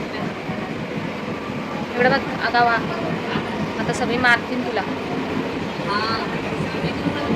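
Steady low rumble and rattle of a moving train carriage, with people talking loudly over it throughout.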